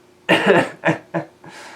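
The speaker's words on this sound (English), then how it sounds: "Pardon my allergies and my coughing" A person with allergies coughs several times in quick, close bursts, a harsh first cough followed by shorter ones.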